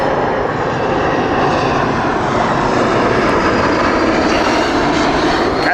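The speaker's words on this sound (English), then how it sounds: "Next up, we have the beautiful Air Baltic A220." An Air Baltic Airbus A220 jet airliner with Pratt & Whitney engines roars past at Heathrow Airport, a loud, steady broadband engine rush with a faint high whine that holds for the whole stretch.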